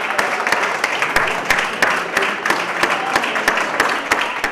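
Applause during a regional government handover ceremony at a provincial government building, steady clapping from a gathered group with sharp individual claps standing out, sustained throughout at close range.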